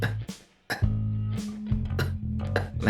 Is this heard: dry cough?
yes